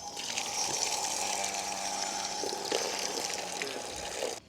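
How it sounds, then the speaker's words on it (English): Water running from a tap at a campground, a steady close splashing flow that continues for several seconds and then cuts off. "Running water."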